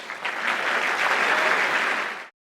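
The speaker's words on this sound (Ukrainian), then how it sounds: "Оплески для суглінок, любі глядачі." Audience applause at a Eurovision 2024 national semi-final, a full, even roar of clapping from a large crowd that holds steady for about two seconds and then cuts off abruptly.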